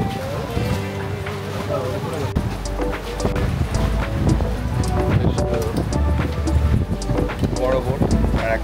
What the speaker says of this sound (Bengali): কোরাল আইল্যান্ড যাওয়ার জন্য এই বড় বোটে করে আমরা যাচ্ছি